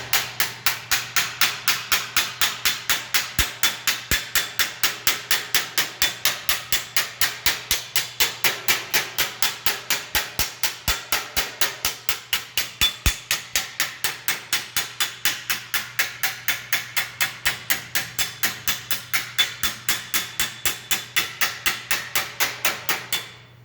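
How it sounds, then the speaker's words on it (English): Rapid, steady metallic hammer blows ring out close up, dozens of evenly spaced strikes shaping a sheet metal flange with no talking. "Now I'm gonna use hammer."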